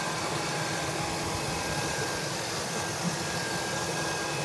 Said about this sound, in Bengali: কত সুন্দর স্মুথ সাউন্ড হলে এই গাড়িটা এরকম হয়ে থাকবে।